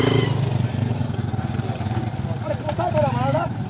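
Motorcycles idle and rev at a crowded bikers' meetup in Kolkata, their engines loud and close under overlapping voices, with rising whine-like revs near the end.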